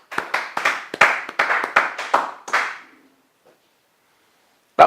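A church congregation claps together in a burst of about a dozen sharp, quick hand claps, loud and close, then the clapping stops and quiet follows.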